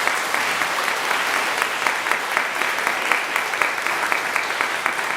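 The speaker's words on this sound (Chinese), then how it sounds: "咱鼓掌来鼓励因" A church congregation at a Taiwanese-language service applauds together, a dense, even wash of clapping that holds steady from start to finish.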